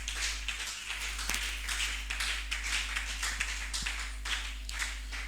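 A church congregation claps and applauds in praise of the Lord, a steady rhythmic patter of many hands at moderate distance over a low electrical hum.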